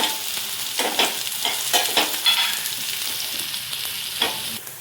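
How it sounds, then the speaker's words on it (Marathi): Green chillies sautéed with softened onion in a pan, a loud close sizzle broken by a series of spatula scrapes and stirring knocks, with no one speaking. "मऊ होईपर्यंत फिरवून घेऊ, हिरवी मिरची हे पण परतून घेऊ"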